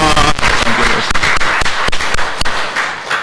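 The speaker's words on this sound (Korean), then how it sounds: "영광의 박수" A church congregation claps in a dense burst during worship, loud and close, with sharp individual claps standing out from the steady patter.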